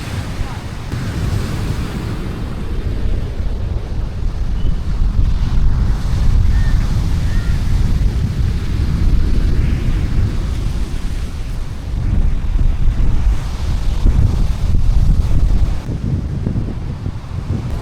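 Rough sea pounding a shore where waves have left debris and sand across the road, with a loud, continuous roar of surf and gusting wind buffeting the microphone.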